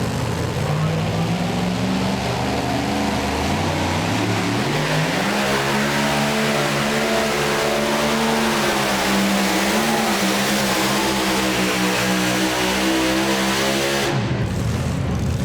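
Super modified two-wheel-drive pulling truck at a charity truck and tractor pull, its engine roaring loud and steady, pitch climbing and holding as it strains down the track, then cutting off abruptly near the end.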